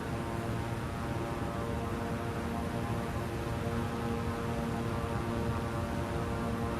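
Airplane engine at takeoff in Microsoft Flight Simulator, a steady loud droning hum with broadband rush that holds even and continuous, no voices over it.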